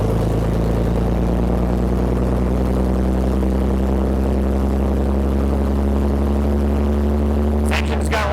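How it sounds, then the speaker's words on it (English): A Continental 22R engine in a Wynantskill fire truck, running on aviation fuel, rumbles steadily and loudly at close range with a low, even pulse throughout, no talk. "This engine's got a lot of power,"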